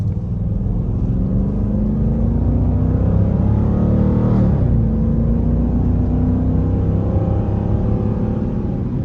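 A Dodge Durango R/T Tow N Go accelerates under moderate throttle, its engine a loud, close, steady rumble that swells and climbs in pitch, then drops back as the revs settle.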